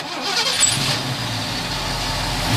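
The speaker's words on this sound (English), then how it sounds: "Let's go ahead and fire this one up for you." A 1971 Ford Ranchero 500 with a largely stock engine cranks and fires up, settling into a steady, fairly loud idle with a low rumble that carries through to the end, with no talking.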